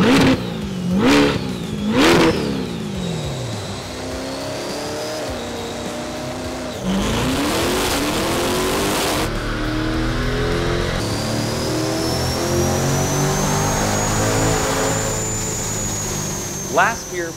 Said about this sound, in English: the car right next to me and the car behind me on the dyno are the world's first factory PCM calibrated supercharged Corvettes in the world